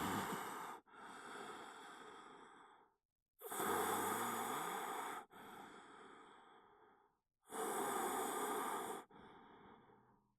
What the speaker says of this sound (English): He begins to hear rasping, heavy breathing.